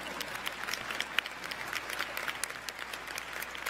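Steady applause from a crowd at a law school commencement ceremony, many hands clapping at once in a dense, continuous patter.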